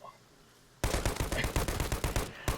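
Gunfire in the shooter game Arena Breakout: Infinite: after a short quiet lead-in, a loud, rapid burst of automatic shots rattles on in a fast, even rhythm until nearly the end.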